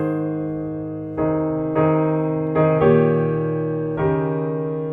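Piano passage with every voice of the chords played at the same loudness, sustained block chords struck in a few even attacks, moderately loud and alone with no talking.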